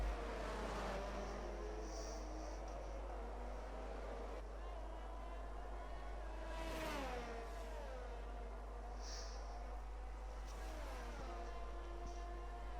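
An Alfa Romeo Formula 1 race car in a racing game screams through rising and falling gear changes on the open COTA circuit, its engine tone sweeping up and down beneath continuous commentary.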